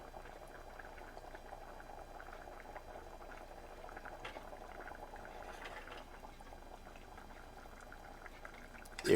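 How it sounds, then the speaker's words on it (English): Brown stew curry oxtail with beans simmers in a pot, a soft continuous bubbling that stays low and even throughout, with no voices. "brown stew curry oxtail with some beans cooking down nicely"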